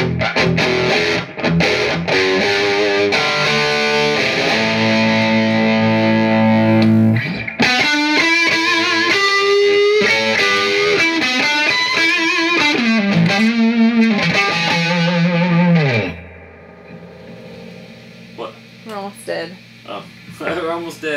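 Schroeder Chopper electric guitar played through distortion and effects, loud sustained chords and melodic runs with a chorus-like shimmer, ending in a few sparse picked notes.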